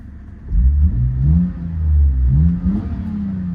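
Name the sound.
Lexus GS300 engine revving through refitted exhaust pipes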